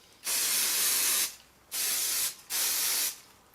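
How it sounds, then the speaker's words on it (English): Three bursts of aerosol hairspray onto a man's curled hair, a long hiss followed by two shorter ones, close and loud with brief pauses between. "generous amount of spray in it"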